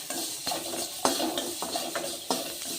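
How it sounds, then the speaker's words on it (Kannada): Onions and green chillies fry in oil in a pan for a chutney, with a soft sizzle under repeated stirring clinks and scrapes of a spoon against metal. "ಈರುಳ್ಳಿ ಎಣ್ಣೆ ಹಾಕಿ ಫ್ರೈ ಮಾಡೋಣ."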